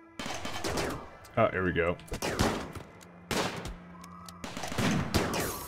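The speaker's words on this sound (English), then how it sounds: "Triple strike with the sniper rifle." Sniper rifle shots ring out during a RimWorld firefight, several sharp cracks spread across the moment with a voice talking between and over them.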